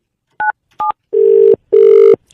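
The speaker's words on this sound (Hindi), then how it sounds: "घंटी बज रही है भाई" Two short electronic beeps, then two longer steady telephone ring tones from a phone call on a radio show, close and clear with short gaps between them.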